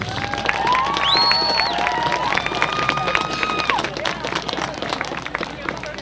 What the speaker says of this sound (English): let's give one last round of applause for your 2019 seniors